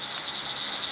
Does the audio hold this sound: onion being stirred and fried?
no